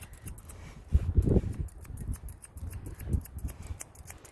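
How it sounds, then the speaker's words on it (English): Thinning shears trim a Portuguese Water Dog's coat in a retriever-style grooming cut, giving close, crisp snips in a loose irregular rhythm, two stronger cuts standing out against a quiet background. "You can also take your thinning shears and thin it in."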